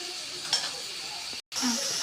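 Onion and tomato sauté in a pan with chili powder and salt for a vegetable-free kurma, giving a steady close sizzle that drops out for a moment before resuming.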